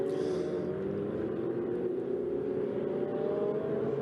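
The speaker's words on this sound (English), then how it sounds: "you're watching the cars through turn number 12 now behind the safety car" Steady engine drone from several Ferrari Challenge race cars rolling behind a safety car through turn 12 at Circuit de Barcelona-Catalunya, a continuous low hum with no sharp revving or bursts of acceleration.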